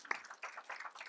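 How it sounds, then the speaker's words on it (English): Audience applause at a summit event, a short burst of clapping that rises and falls in a few uneven swells, fairly faint and heard alone without talk. "Let's give him a round of applause."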